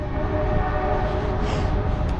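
Moving train rumbling steadily up close, a continuous low roar with a faint tonal hum running throughout, no pauses or talk.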